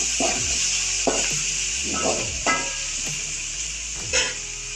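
Sliced shallots and tomatoes sizzle in a hot pan with steady frying hiss, while a spoon scrapes and stirs against the metal in a slow, repeated rhythm.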